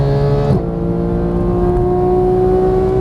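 Porsche 911 GT3 of the 991 generation on a race track, its engine note dropping sharply on an upshift then holding a steady, strong droning whine as it pulls again.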